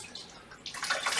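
Water trickles and splashes as a wet Mr. Clean Magic Eraser is wrung out by hand, starting faint and swelling into a brief, close stream of dripping and running water.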